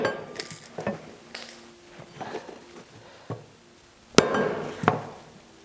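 A hide mallet strikes twisted metal resting on a wooden stump, giving several sharp, separate knocks at uneven intervals, with two louder blows near the end and a faint clink after each hit.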